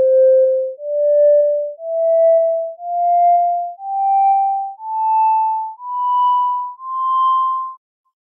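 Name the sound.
smoothed fundamental tone generated in MATLAB using absolute value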